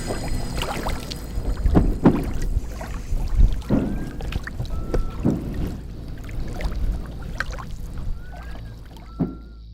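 A stranger paddles a small boat on open water, with soft, irregular paddle strokes and splashes under steady wind. A faint whistled tune drifts in now and then. No one speaks.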